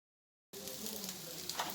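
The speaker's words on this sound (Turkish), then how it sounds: "Alttan cızırdamalar başladı." Meatball kebabs on skewers crackle and sizzle in a toaster grill, a steady, dense hiss that begins abruptly after a short silence and continues evenly at close range.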